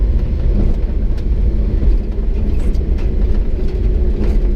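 A Japanese mini truck rolling along at about 30 km/h, heard from inside the cab as a loud, steady low engine drone and road rumble with no talk.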